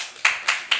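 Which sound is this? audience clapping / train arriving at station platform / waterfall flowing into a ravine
audience clapping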